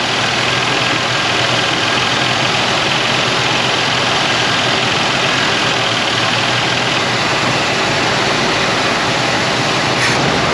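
A Honda car engine idles in an auto repair shop with the air conditioning switched off, a steady, loud, even rumble holding without change for about ten seconds, with no talking.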